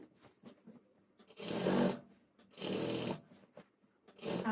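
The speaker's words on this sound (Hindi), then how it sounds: "जहाँ से हमने ये सिलाई की है इस सिलाई के ऊपर इस पग्गी को चलाएंगे" A sewing machine stitches along a salwar seam, running over an earlier line of stitching in three short bursts separated by quiet pauses, heard close and alone.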